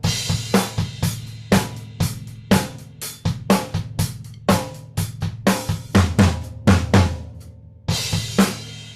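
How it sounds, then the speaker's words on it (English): A drum fill alternating between snare and bass drum, sharp snare cracks interleaved with thuddy kicks in a quick, driving pattern, close and clear, with a brief pause near the end before the hits resume. "just playing the notes between the snare drum and bass drum"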